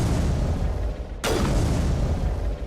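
Explosions in Mass Effect Legendary Edition gameplay, a loud rumbling blast roaring continuously and then a fresh sharp burst about midway that restarts the heavy boom, with no talk over it.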